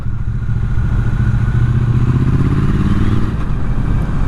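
A Triumph Speed Twin 900 motorcycle rumbles along at low revs in third gear through a village, a steady, loud, close engine thrum with light mechanical clatter and no voices.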